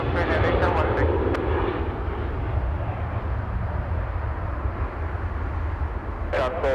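A jet airliner on takeoff roll from runway 24 left at Los Angeles International Airport gives off a steady, heavy low roar from start to end, with a brief high whine near the end.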